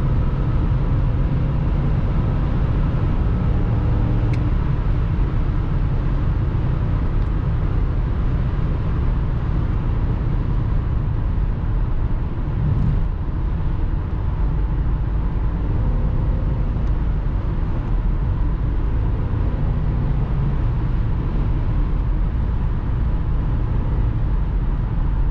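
Large trucks passing on a highway, a continuous low engine and road rumble with a wind-like whoosh, steady and moderately loud for the whole stretch, with no voices.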